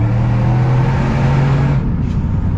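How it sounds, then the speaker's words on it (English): A supercharged first-generation Roush Raptor pickup accelerates hard through a tunnel underpass. Its loud, steady engine drone and deep exhaust rumble sit close and fill the enclosed space, then the tone shifts near the end. "we're gonna slow down a little bit, and of course we're gonna punch it through"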